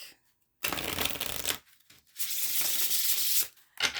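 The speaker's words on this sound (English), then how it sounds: "It feels so good to shuffle. I could just shuffle this deck all day long." Tarot cards are shuffled close up in two riffling bursts, a crisp papery flutter, then a brief third riffle starts.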